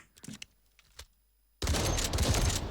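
A new MK47 rifle in Delta Force, a test-server build, fires in a sudden dense, loud burst that runs continuously to the end. It follows a near-silent stretch with a few faint clicks.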